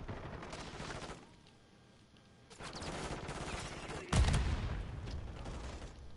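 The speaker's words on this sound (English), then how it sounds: "Are they shooting in front of me? Are they shooting from behind? You're just seeing the bullets fly," Gunfire and bullets flying in Call of Duty MW3, a dense continuous clatter of shots with a dip in the middle and a sharp louder burst near the end, heard alone without talk.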